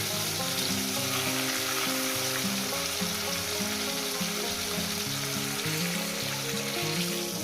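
Rohu fish pieces fry in a pan of hot oil, giving a dense, loud, continuous sizzle and bubbling that carries on steadily up close, with no talking.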